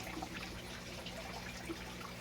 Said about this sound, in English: you water the plant. So water properly because lemon needs deep watering.